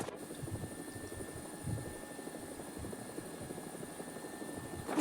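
Helicopter in the War Thunder video game, a steady rotor and engine drone holding at moderate level throughout, with a faint high whine running constantly above it.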